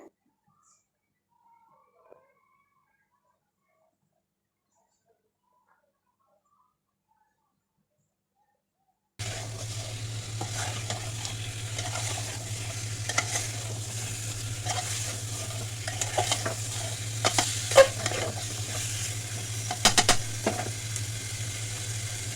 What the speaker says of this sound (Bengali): ভালোভাবে ভেজে নিব মশলার সঙ্গে কষিয়ে নিব পোড়া পোড়া একটা ভাব আসবে